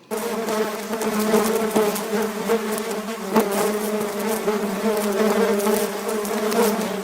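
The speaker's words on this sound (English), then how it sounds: "That's the sound of 20 million mosquitoes." A dense, steady insect buzz from a swarm of about 20 million mosquitoes, a loud droning hum holding its pitch throughout with no pauses.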